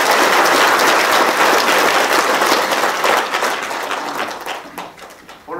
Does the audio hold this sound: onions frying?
no